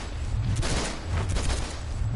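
Twin pistols firing in DC Universe Online, a steady quick fusillade of gunshots crackling together at moderate loudness, no speech.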